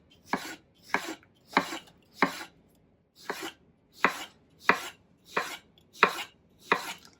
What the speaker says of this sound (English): we're going to slice these basically the same way as we did with the melon.